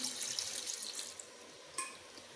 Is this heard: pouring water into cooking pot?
yes